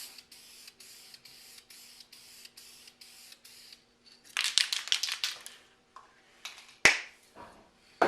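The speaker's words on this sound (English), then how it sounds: "I'm just going to paint silver real quick" Short bursts of aerosol spray paint hiss out in silver over a vinyl mask decal, a series of sharp, close hisses with quiet gaps, after earlier rhythmic mechanical clicking.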